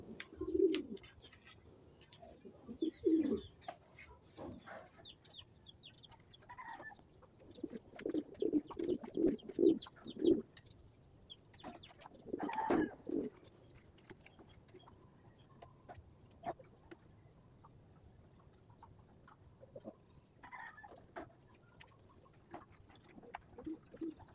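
Racing pigeons arrive at a loft, giving soft, scattered cooing and brief fluttery calls at moderate distance over a quiet outdoor background, with sharp clicks and knocks in between and no talk.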